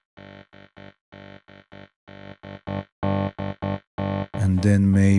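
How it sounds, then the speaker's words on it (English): Synth notes in Bitwig run through an amp distortion effect: a series of short, evenly spaced chords, growing louder and grittier, with a final saturated, harmonically rich held note, played alone without talk. "Let's have maybe some distortion with amp."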